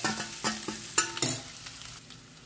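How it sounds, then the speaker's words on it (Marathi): Soya chunks frying with browned garlic in a pan, giving a steady sizzle broken by several sharp clinks and scrapes of a spoon stirring against the metal, close and clear with no voices. "सो आतां आमी सोय घालया आनी सोय घालून न्ही बरें एका फ्राय करून घेवंक जाय."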